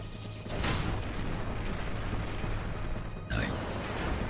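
An explosion in Final Fantasy X HD Remaster, a deep boom that swells around half a second in and rumbles on, followed by a second sharp burst near the end.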